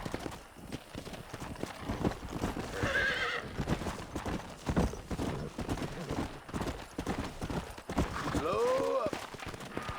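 Horse hooves clip-clop at a gallop in the Red Dead Redemption video game, with two sharp neighs or whinnies, loud and near, under voices speaking.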